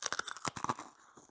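Close, loud crunching bites into crispy fried chicken made without buttermilk, a quick burst of sharp crackly chews and tearing that tapers into quieter chewing.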